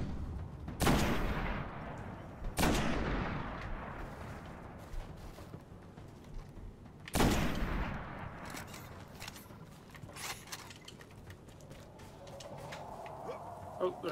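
Enemy ship firing on the player in the Destiny beta, Old Russia: loud broadband blasts at about one, two and a half and seven seconds, each decaying, then scattered smaller shots and rumble with faint speech.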